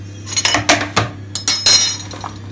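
Utensils clink and scrape against a dish of chopped potatoes, zucchini and peppers in quick, uneven bursts, close by, over a steady low hum.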